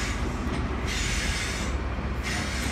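A five-carriage Class 802 train passing at York, a steady loud rumble of rolling stock with wheel and rail noise throughout, no talk.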